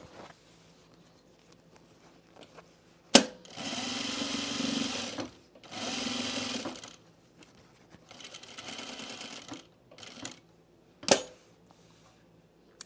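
Domestic sewing machine stitching a welt on a blazer runs in several short bursts of a few seconds each, with quiet pauses and sharp clicks between runs, close and clear with no talking.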